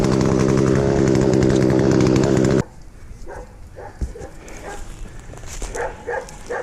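A chainsaw runs loud and steady while being moved back and forth through wood during a lesson, then cuts off abruptly, leaving a quieter stretch of faint scattered knocks and background noise.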